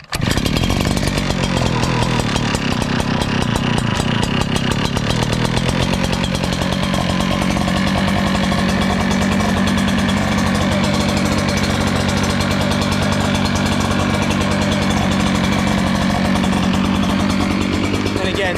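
An Echo PB9010H backpack blower with a hip throttle starts abruptly and runs loud and close for the whole stretch, its two-stroke engine holding a steady, buzzing drone.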